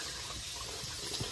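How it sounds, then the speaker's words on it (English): Dishes being washed under a running tap, a continuous close rush of water filling the whole moment. "Should I wash the dishes?"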